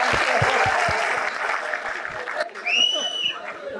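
Audience applause at a Marathi stand-up comedy show, a dense burst of clapping that fills the first half and then thins out, with voices and a brief squeal-like sound near the end.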